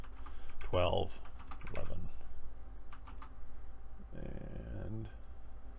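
Rapid clattering of a computer keyboard in short bursts of typing, with a person speaking between the bursts.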